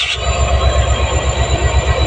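A train rolls past close by with loud, rhythmic clattering of wheels over rail joints and a deep rumbling drone.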